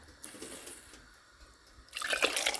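Rice flour dissolved in water pours into a cooking pot for Tamil aadi koozh, a soft liquid trickle and splash that swells into a louder gush near the end, heard close up with no talking.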